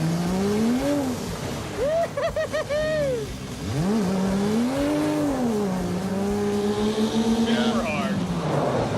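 Dodge Charger engine revving hard against its rev limiter, a loud bouncing drone with rapid stuttering cuts, rising and falling in pitch, heard close over crowd noise and talk.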